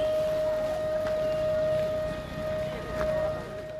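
A civil defense siren sounds during a mock emergency drill at a mini secretariat building in Charkhi Dadri, Haryana, holding a steady wailing tone at moderate distance with faint background noise and no talking.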